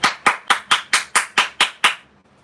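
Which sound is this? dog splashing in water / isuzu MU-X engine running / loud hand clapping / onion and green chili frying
loud hand clapping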